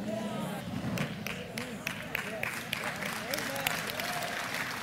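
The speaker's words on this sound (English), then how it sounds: "You should clap your hands right there" Audience applause fills a church service, with irregular claps over a lively crowd murmur. Voices talk beneath it, and the clapping carries at a moderate, even level throughout.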